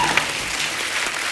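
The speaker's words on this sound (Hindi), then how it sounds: "एक बार जोरदार तालियां हो जाएं अक्षय पाजी के लिए।" Loud applause from a comedy talk show studio audience cheering for Akshay Kumar, a brief burst of dense, continuous clapping with no speech.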